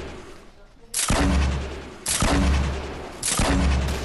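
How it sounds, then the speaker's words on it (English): Rockets fire in a video game as three heavy, booming launches burst out about a second apart. Each loud blast decays into a rumbling tail, with no talk over them. "Rocket's going out."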